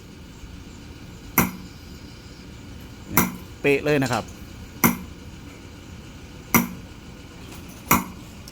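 A hammer strikes a metal stamp to punch a pattern into a bracelet, giving five sharp, ringing metallic taps spaced a second or more apart, with someone briefly speaking between strikes.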